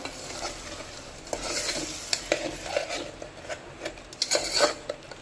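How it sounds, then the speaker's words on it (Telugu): Potato pulao is stirred inside a pressure cooker, with a spoon scraping and clinking against the metal pot over a faint sizzle in irregular, close-up strokes, and no talking. "ఇప్పుడు మనం దీన్ని కుక్కర్లో వేసుకుందాం కుక్కర్లో వేసుకొని కలుపుకుందాం"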